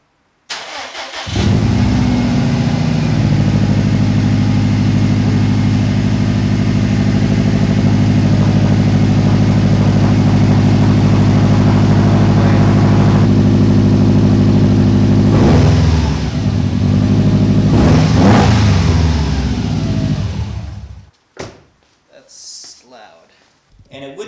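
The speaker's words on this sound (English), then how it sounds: "I've never actually heard an STI with no catback." A Subaru STI running with its catback exhaust removed starts up and roars loudly, holding a steady harsh idle with revs rising around the middle and end before cutting off abruptly.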